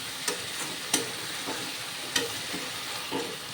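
Chicken pieces and spice masala frying in oil in a pan for a curry: a constant close sizzle broken by regular spoon scrapes and taps every half second or so, with no voices.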